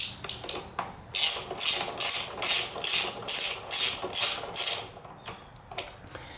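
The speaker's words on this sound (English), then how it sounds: "I'll tighten up the caliper bolt" A ratchet tightens the brake caliper bolt on a Honda VTX 1300R motorcycle in a rhythmic series of about ten quick clicking pulls, close and crisp, with a few isolated clicks before and after.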